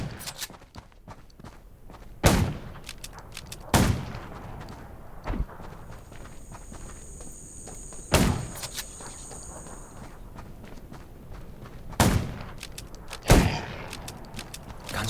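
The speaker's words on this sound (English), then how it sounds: "gunshots will attract more zombies" Gunfire in the zombie survival video game Undawn: several sharp, loud shots spaced a second or more apart, at about 2, 4, 8, 12 and 13 seconds, over a busy background of footsteps and game ambience, with no talking.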